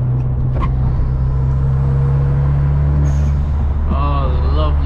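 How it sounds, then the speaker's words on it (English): Turbocharged Hyundai Genesis Coupe cruising at sunset, a steady loud engine drone throughout with a rising whistling turbo spool and flutter near the end. "Oh, lovely turbo noises."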